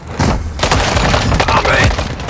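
A frag grenade in the video game Call of Duty Modern Warfare 3 multiplayer, played on the Rust map, goes off in a loud, close boom with crackling debris that runs into the rest of the firefight noise, with voice callouts mixed in.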